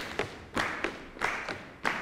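Rhythmic hand clapping, the palmas accompanying dancers performing Carnavalito at a dance workshop; about six evenly spaced, sharp claps at moderate volume, heard alone without voices.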